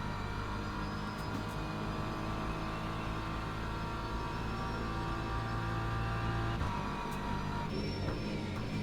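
BMW M4 GT3 race car in a racing video game at Monza, a steady moderate engine drone with a brief dip as revs drop midway, continuous and fairly quiet.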